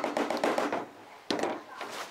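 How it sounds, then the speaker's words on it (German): An onion is rubbed over the fine side of a grater in bursts of quick rasping strokes, with a short pause in the middle. The sound is close and fairly loud. "jetzt reiben wir einmal die Zwiebel auf ganz kleiner Stufe"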